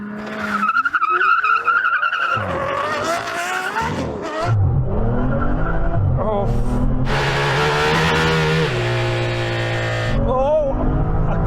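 Aston Martin Valkyrie, Vanquish and V12 Vantage launching off the line in a drag race, engines roaring hard through the whole stretch with tyre squeal and rising, shifting revs, loud and close with brief talk mixed in.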